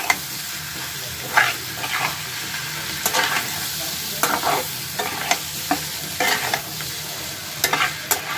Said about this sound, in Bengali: এই নুডলসগুলো দিয়ে বন্ধুরা সব সবজিগুলোকে ভালো করে মিশিয়ে নেব।